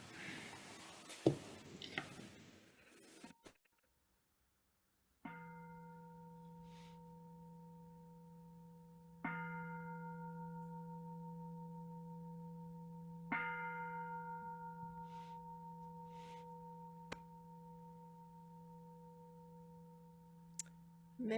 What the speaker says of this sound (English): Maybe let's bring that home with the sound of the bell, Cynthia, if you will.